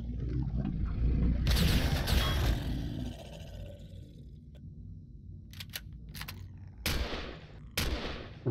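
Turret gunfire in Empyrion during a weapon bunker assault: a dense loud burst of shots and roaring blasts early on, then quieter rumbling, with sharp clicks and two more short bursts near the end.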